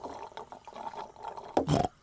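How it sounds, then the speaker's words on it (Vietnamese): Cartoon characters Peppa and George noisily slurp and sip orange juice, with a few soft gulps, then a louder, bubbling slurp near the end, close and brief. "Hai đứa con uống nước ồn ào quá."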